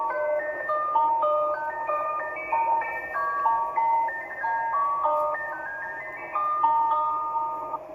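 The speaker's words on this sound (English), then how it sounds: "it's a scary ice cream truck" An ice cream truck jingle in an old emergency alert broadcast plays as a tinny, repeating music-box melody of clear notes, steady and unbroken with no talking.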